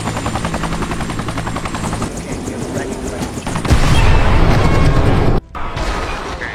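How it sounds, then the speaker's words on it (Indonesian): Helicopter rotor chop gives way to a loud sustained blast and roaring rumble as the helicopter explodes, then a sudden brief cutout before the noise resumes. "mereka semua dikejutkan dengan meledaknya helikopter yang mengangkut rombongan teroris tadi"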